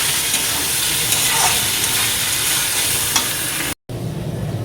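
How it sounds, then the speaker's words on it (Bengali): Potatoes sauté in a pan with ginger, cumin and green chilli, producing a steady loud sizzling hiss with occasional stirring scrapes, cut by a brief gap before the frying noise resumes. "একটু ভেজে নিয়েছি, ভেজে আদা জিরে কাঁচা লঙ্কা দিয়ে একটু কষিয়ে নিই"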